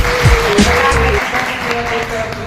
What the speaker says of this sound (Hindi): सो एक बार और जोरदार ताली हो जाए हमारे सभी टीचर्स के लिए